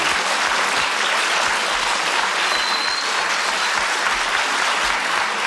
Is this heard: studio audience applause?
yes